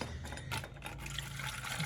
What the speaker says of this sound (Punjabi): ਪਾ ਦੇ ਇਹਨੂੰ ਨੂੰ ਪਾਣੀ